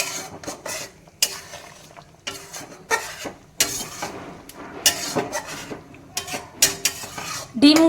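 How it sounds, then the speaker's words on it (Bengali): Meat and spices get stirred in a pot with a metal spatula, irregular scraping and clanking strokes close up, with faint background sounds and no speech. "মাংসর সাথে মশলাগুলো আমরা খুন্তির সাহায্যে ভালো করে মিশিয়ে দেব"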